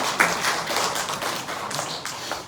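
A church congregation claps to welcome the men's group at a 70th-anniversary service, with brief, light, scattered applause in a large room that fades out within a couple of seconds.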